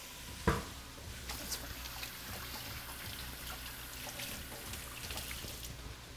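Hands are washed under a running tap in a kitchen, a soft, steady trickle and splash of water with a sharper knock early on, fairly faint and close.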